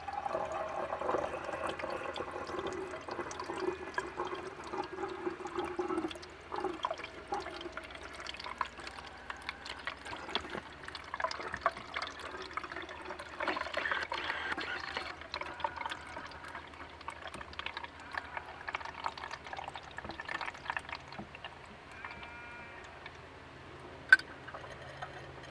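Water kefir poured through a metal skimmer into a container inside a camper van, a long, faint, steady trickle with scattered drips and small splashes, and no talk.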